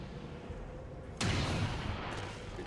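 A single gunshot in a video game strategy battle against alien enemies fires as a sudden sharp blast, then a rumbling decay under faint background game ambience.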